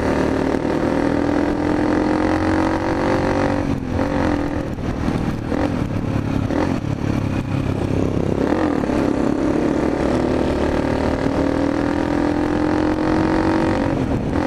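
A motorcycle engine drones loudly and close by through the whole stretch, its pitch rising and falling a little as it rides at speed, with no talk.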